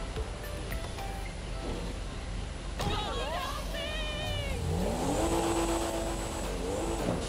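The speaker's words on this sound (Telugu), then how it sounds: "సో ఇది మన ఓల్డ్ కార్ సౌండ్" An old car's engine revs in GTA 5 with a rising, sustained pitch under steady game background noise, and scattered tonal sweeps and brief squeal-like tones along the way.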